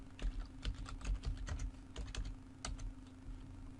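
Computer keyboard typing as a password is entered during an online registration, a close run of uneven soft key clicks over a low steady hum.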